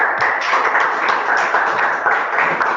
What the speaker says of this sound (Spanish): Le damos un aplauso al compañero